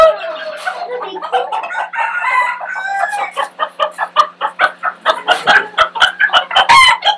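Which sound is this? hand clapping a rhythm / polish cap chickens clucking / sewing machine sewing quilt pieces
polish cap chickens clucking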